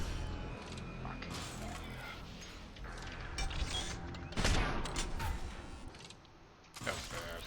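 Gunfire in the video game Mass Effect 3 comes as bursts of rapid shots and impacts, varying in loudness with quieter gaps between volleys.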